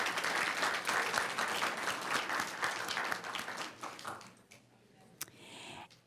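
Applause from an audience at a school board meeting, a steady round of clapping that thins and fades near the end, with a few scattered claps afterward.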